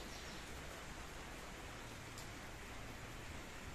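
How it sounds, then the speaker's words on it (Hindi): Steady, dense rain pours without pause on village farm fields, a broad hissing wash that stays loud and even throughout, with no voices. "बहुत ज्यादा बारिश हो रही है।"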